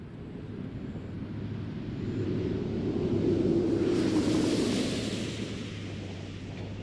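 Space Shuttle Atlantis touching down on the runway at Kennedy Space Center produces a broad, distant roaring rush that swells toward the middle and then eases, with a steady low hum underneath.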